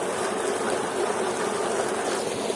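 Water gushes hard and steady from the 5-inch delivery pipe of a solar tubewell pump driven by a 30-horsepower motor, a loud continuous rushing roar up close with no talking.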